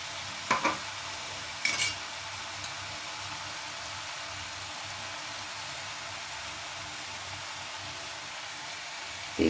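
Shrimp curry masala, cooked until the oil separates, fries in a pan with a steady soft hiss, broken by a few brief sharp scrapes of a spoon against the pan near the start and once at the end, with no voices.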